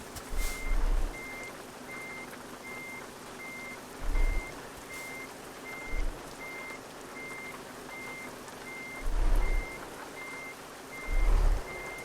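Steady, evenly spaced reversing beeps from a Volvo FH16 truck backing up on a dirt road repeat throughout over a low idling engine, with a few heavy thumps and hisses along the way.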